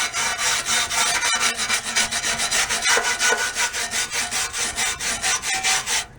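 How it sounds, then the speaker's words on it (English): Chrome trim on a 1965 Volkswagen Beetle is scraped by hand in close, rhythmic, rasping strokes, about a dozen quick pulls repeated evenly with no voices. "Give it a little scrape."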